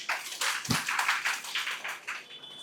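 Workshop audience clapping, a burst of many hands applauding together in quick irregular claps that hold steady for a couple of seconds and then thin out slightly, close and lively with no talk.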